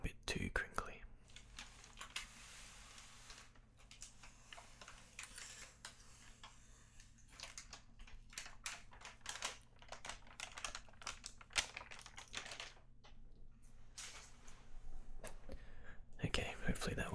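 A crinkly plastic bag handled carefully as comic books are slid out, giving soft, quiet crackles and rustles throughout with faint whispering.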